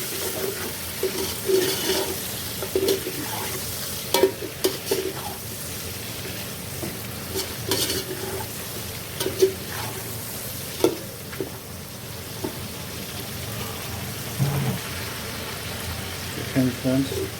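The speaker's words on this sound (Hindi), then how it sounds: "5 मिनट तक मैंने चिकन को इसमें फ्राई किया" Chicken frying with browning onions in a pan, a steady loud sizzle broken by intermittent scraping and clattering stirring strokes, with a voice talking over it at times.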